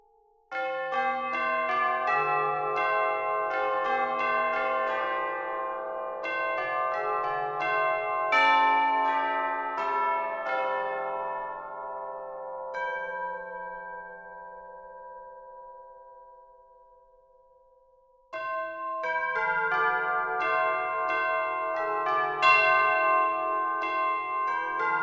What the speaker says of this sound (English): So this is probably my favorite, the bells ensemble.